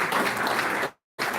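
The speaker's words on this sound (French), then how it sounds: "Applaudissez pour les conseillers." Crowd applause for councillors at a public gathering in Kongo Central, dense steady clapping that cuts to silence briefly, then resumes at the same level.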